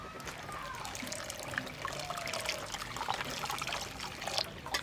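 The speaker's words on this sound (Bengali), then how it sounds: "এবার একটু জল দিয়ে ধুয়ে নেবো।" Water running and trickling steadily during a rinse in a kitchen, a soft continuous splashing flow heard close and fairly quiet, with faint background noise.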